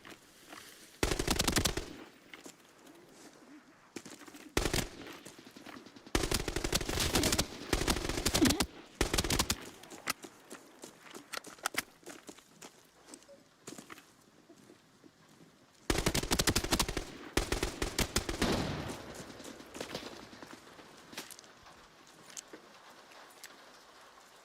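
AK-102 and AK-12 rifles trade fire in a video game, loud rapid bursts of automatic gunfire at irregular intervals, with quieter gaps of distant shots and movement between them.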